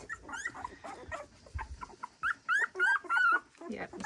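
Several newborn puppies whimpering and squeaking in a whelping box, a run of short high whines close by, with a person talking softly around them.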